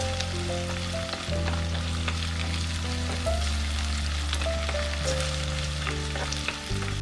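Crushed ginger and garlic sauté in hot oil for a squid roast, giving a dense, constant sizzle and frying hiss close up, with occasional stirring scrapes and no speech.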